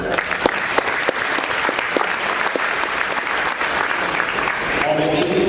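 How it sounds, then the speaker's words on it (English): An audience at a high school athletic signing ceremony claps for a wrestler named Addison with steady, loud applause. A voice begins speaking over the tail end of the clapping. "Round of applause for Addison."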